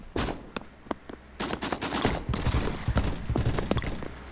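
Rapid bursts of gunfire in the VR shooter Pavlov VR, crackling shots in quick clusters and short volleys, loud and close, with brief gaps between them.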